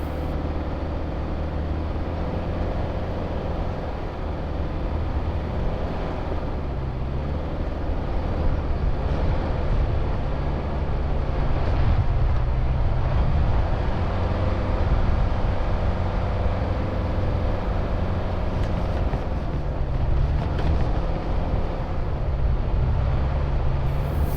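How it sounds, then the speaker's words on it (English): A Subaru Forester engine revs hard at high RPM while pushing through soft, fluffy sand. It is a steady, loud drone that runs the whole time, partly buried under heavy wind rush. "when we get up on this fluffy sand, you're going to hear the motor here"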